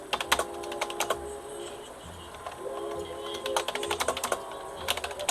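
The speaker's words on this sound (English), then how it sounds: "I love this keyboard. It's just click," Clicky computer keyboard typed in sharp bursts of rapid keystrokes with short pauses between, close and fairly loud, while a person speaks quietly in the background.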